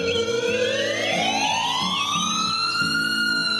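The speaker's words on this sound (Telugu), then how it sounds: "అలా అంబులెన్స్ వెళ్తూ ఉంటుంది." An ambulance siren wails loudly and continuously as it moves along a village road, its tone sweeping steadily upward, with a low pulsing engine rumble underneath.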